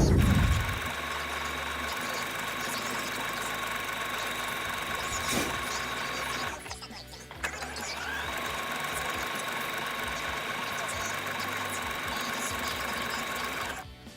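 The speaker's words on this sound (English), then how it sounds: "then we're going to sew down the sides" A sewing machine stitches down the sides of a slippery stretch fabric for a bodycon dress, running in a steady, continuous close-up whir with a brief pause partway through before resuming, no talking.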